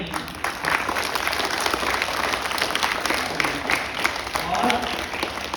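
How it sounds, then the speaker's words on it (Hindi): An audience applauds in honor of teachers at a Hindi Diwas school performance, steady dense clapping filling the hall from start to finish with a few louder bursts. "मैं चाहता हूँ कि मेरे उन गुरुओं के लिए आप ताली बजाएं जो यहाँ हैं या जो नहीं हैं।"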